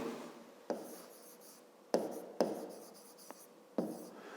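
A math problem is written out by hand, pen scratching across paper in several short close strokes, each starting with a sharp tap and fading in soft scratches, separated by brief pauses, with no talking.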